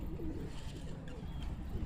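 Pigeons coo softly where grain has been scattered on the ground, a faint, low burbling from a few birds against quiet outdoor background noise.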